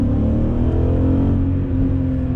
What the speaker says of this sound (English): it has a really sweet exhaust system, starting with a set of Racing Dynamics headers into high-flow cats